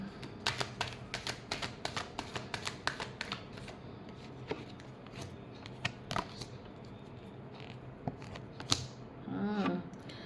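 Tarot cards being shuffled by hand, a run of quick crisp riffling snaps and flicks close up, with no talking.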